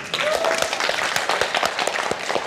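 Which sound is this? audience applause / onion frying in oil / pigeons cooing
audience applause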